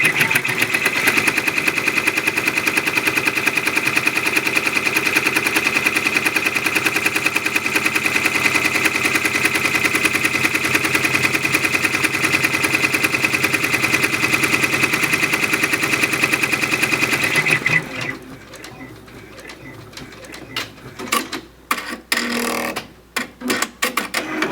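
A Brother PR 655 embroidery machine stitching in a fast steady rattling rhythm for most of the stretch, close and loud, then stopping and giving way to scattered clicks and handling noises.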